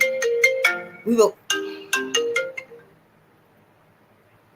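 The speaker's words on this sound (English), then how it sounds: "My phone is ringing." A mobile phone ringtone plays in a repeating melodic pattern for about three seconds, close and fairly loud, then cuts off into quiet room tone; a voice briefly speaks over it.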